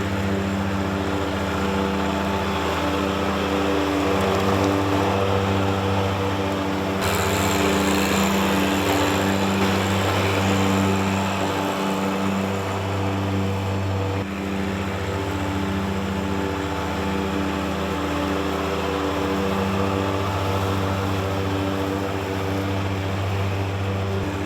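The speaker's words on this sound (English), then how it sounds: "Christy, our yard needs mowing." A John Deere 1025R compact tractor mowing a sloped yard, its engine droning steadily and loudly alongside the whir of the mower deck, the tone shifting slightly twice with no talking.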